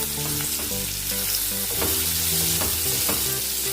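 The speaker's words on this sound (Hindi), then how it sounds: "अब इसमें हम प्याज डालेंगे।" Onions drop into hot oil with frying cumin and mustard seeds, setting off a loud, steady sizzle with stirring over a constant tonal hum, close and without voices.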